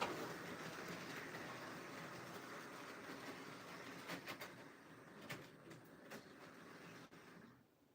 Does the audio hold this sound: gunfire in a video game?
no